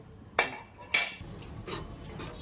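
Spoon scraping and clanking against a pan while dahi tadka is mixed, two sharp metallic knocks followed by softer rubbing scrapes, close and fairly quiet.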